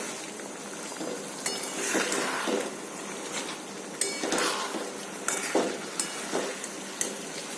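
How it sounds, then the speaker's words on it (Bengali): Spices sautéing in a pan for a Bengali curry, with steady sizzling and repeated scraping and clinking as they are stirred, with louder stirring strokes in the second half. "এবার আস্তে আস্তে আমি ভালো করে কষিয়ে নেব।"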